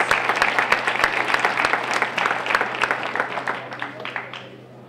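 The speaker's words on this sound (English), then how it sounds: "So please give a round of applause" An event audience applauds with dense, steady clapping from many hands that carries clearly and then gradually thins and fades toward the end.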